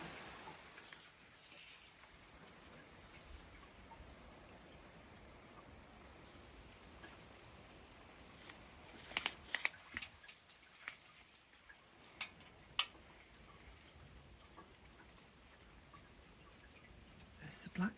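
Soft, steady patter of rain outdoors, quiet and diffuse, with a few louder drips and faint movement in the background.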